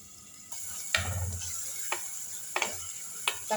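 Tomatoes soften in a clay mud pot for a fish kuzhambu. A quiet, steady sizzle runs through the clip, broken by a few soft stirring scrapes and clinks, with no talking.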